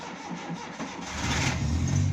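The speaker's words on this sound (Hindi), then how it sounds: "ये आप देख सकते हैं गाड़ी हमारी स्टार्ट हो गई है।" A Suzuki Bolan is started in cold weather: the starter churns briefly, then the engine catches and settles into a louder, rumbling idle close by.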